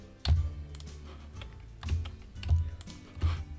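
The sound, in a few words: computer keyboard keys being pressed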